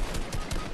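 Rapid bursts of gunfire in the Fortnite video game, a few sharp cracks over a dense, steady backdrop of game noise.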